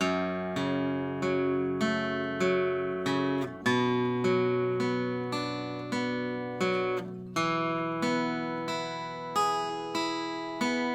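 Acoustic guitar strumming a chord progression, clear ringing chords struck in a steady rhythmic pattern, close and alone without talking.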